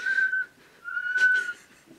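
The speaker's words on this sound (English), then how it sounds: "followed by three whistles" Three whistle blasts sound as part of a ship's emergency signal, two long steady tones and a shorter one with a brief gap between them, fairly close and clear.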